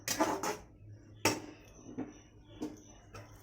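Spice paste being stirred in a cooking pan, with a few scraping, clattering strokes of a utensil against the metal, close and moderately loud with pauses between.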